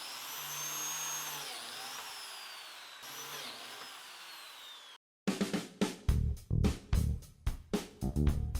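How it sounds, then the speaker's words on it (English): A biscuit joiner cuts slots into the inside faces of cherry wood bookcase rails, giving a series of short, loud, closely spaced whining bursts after an earlier steady motor hum and a brief silence. "I'm going to make a couple biscuit slots on the inside of the rails"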